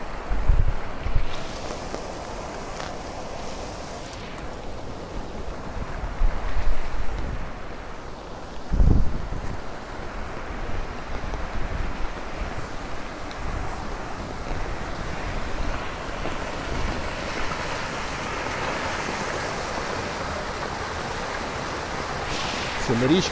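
Loud, continuous rushing of the flooded Lybid River in Kyiv with heavy wind buffeting the microphone and occasional thumps, a voice speaking now and then over the roar.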